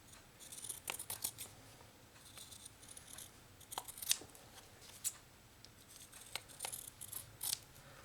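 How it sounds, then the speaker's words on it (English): Scissors trim a piece of batting for a cross stitch ornament, giving a string of quiet, close snips and rustles in uneven bursts with no talking. "and then trim around that."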